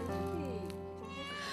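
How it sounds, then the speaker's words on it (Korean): A mother cat with a hoarse voice meows insistently, a close, drawn-out wavering cry that holds through the short moment. "온종일 자식 걱정뿐인 어미 고양이는 사료엔 입도 대질 않고 하염없이 울기만 하는데요"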